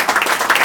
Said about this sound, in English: We'll give him a round of applause anyway, because he was here to support Elliot.